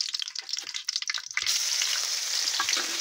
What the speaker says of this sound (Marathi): रिफाईंड ऑइल गरम झाल्यावर आपण जिरे टाकलेले आहे. त्याच्यानंतर आपण त्याच्यामध्ये टाकणार लसूण, जे आपण पेस्ट बनवून घेतलं होतं.